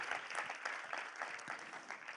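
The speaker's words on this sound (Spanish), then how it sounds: "Denle otro aplauso al Señor, aleluya." Congregation in a church service applauds steadily, a dense, even wash of many hands clapping at moderate distance with no voices over it.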